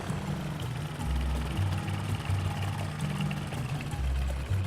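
A small airplane engine in the Ultrawings video game drones steadily as the throttle is eased back. The low hum continues alone with a slightly shifting pitch.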